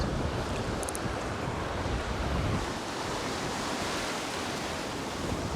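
Steady ocean surf and wind noise on a beach where someone is fishing for tailor, a continuous broadband roar with no clear breaks, fairly soft and even throughout, with no voices.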